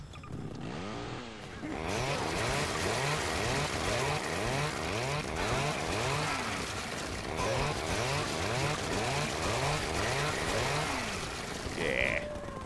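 A chainsaw in Garry's Mod revs in a rapid rhythm of repeated rising and falling buzzing surges, loud and close, running continuously for several seconds.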